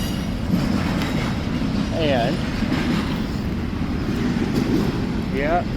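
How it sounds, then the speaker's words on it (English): A train runs fast through Roseville past the rail yard without stopping, giving a steady rolling rumble with sharp wheel squeals over it and a brief voice. "sometimes you got trains that coming through here a little fast because they're not stopping at the rail yard"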